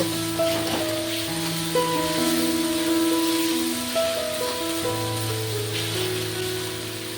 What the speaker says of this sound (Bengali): এই মশলাটা বেশ পেঁয়াজের সাথে নেড়ে চেড়ে ভেজে নেব